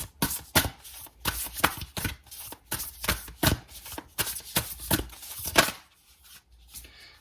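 Tarot cards are shuffled and drawn by hand in a steady stream of crisp riffling and slapping bursts, close and fairly loud, with no talking.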